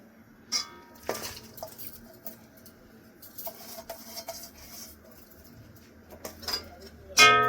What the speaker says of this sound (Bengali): বাটি জল দিয়েছি, এক বাটি আমি গুড় দিয়ে দিচ্ছি।